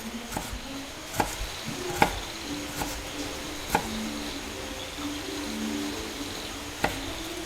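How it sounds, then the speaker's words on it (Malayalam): Vegetables being cut into pieces with a knife for a home-cooked sambar meal in a Kerala kitchen, with a handful of sharp, irregularly spaced chops on a board against a quiet room background and faint tonal noise. "പിന്നെ മുറിക്കാനുള്ള കഷ്ണങ്ങളും മുറിച്ച് മുറിച്ചെടുത്തു കേട്ടോ"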